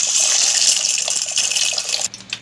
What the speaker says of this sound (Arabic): انا عايزه الميه تكون بتغلي كده عشان المكرونه تستوي معاكي كويس